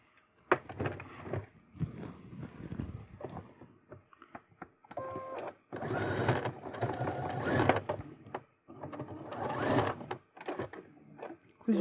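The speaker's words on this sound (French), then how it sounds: "Cousu par-dessus mon épingle, du coup ma machine elle n'a pas aimé" Domestic sewing machine stitching a bustier seam and running over a pin, heard in several quick whirring bursts separated by pauses, with small mechanical clicks and knocks between runs.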